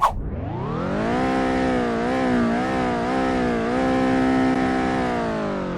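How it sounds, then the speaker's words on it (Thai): A modified van engine is revved hard, its loud, throaty whine climbing quickly and then held high with small wavering surges, close up and continuous. "มาลองฟังเสียงเครื่องยนต์แบบแต่งซิ่งแต่งเต็มกันนะครับ"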